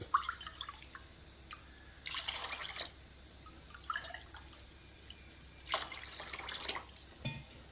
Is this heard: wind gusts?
no